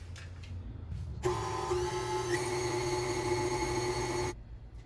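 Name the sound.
electric mixer beating peach cake batter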